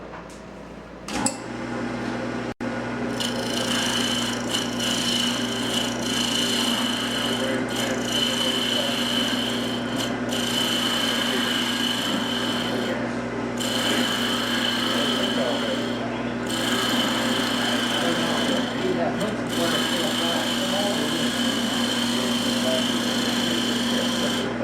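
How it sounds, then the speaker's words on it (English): A wood lathe hums steadily while a tool cuts the nub off a Saturn bowl box and scrapes it, making continuous gritty rasping with short breaks throughout. "We'll then cut our nub away. Give it a little scrape."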